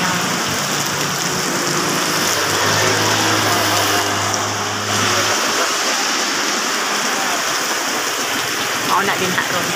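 Heavy rain pours down in a dense, constant hiss, with a low engine hum underneath that fades partway through.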